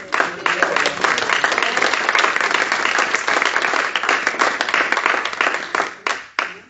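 A church congregation at a teaching meeting on divine healing bursts into sustained, loud applause, dense clapping that runs evenly for several seconds before thinning into a few final claps.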